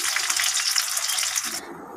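Panch phoron and slit green chillies tempered in hot oil, then pointed gourd and green papaya added, a bright crackling sizzle that drops off sharply near the end, close by with no talk.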